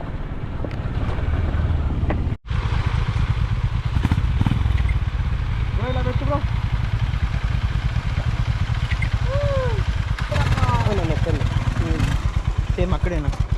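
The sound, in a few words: motorcycles riding on a weekend superbike ride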